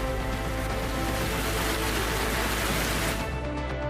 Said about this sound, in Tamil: காலை முதல் தொடர்ந்து பெய்து வரும் கனமழையால் மக்களின் இயல்பு வாழ்க்கை பெரிதும் பாதிக்கப்பட்டுள்ளது